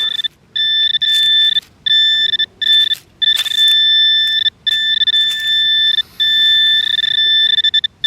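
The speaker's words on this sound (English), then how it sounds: "the metal detector says it is right in here" A Deus 2 metal detector with an HF2 coil, used in a small park, signals a buried ring-shaped target with loud, steady two-tone electronic beeps in repeated bursts and short gaps.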